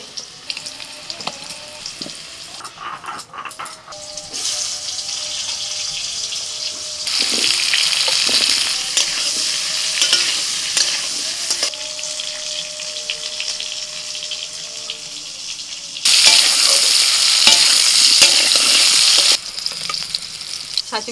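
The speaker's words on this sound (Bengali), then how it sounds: "ছাঁচি কুমড়োগুলো ভাজা হয়ে গেল।" Pieces of ash gourd frying in hot oil, a continuous close sizzle that surges louder in stretches as the pieces are stirred, with occasional clinks and scraping of utensils.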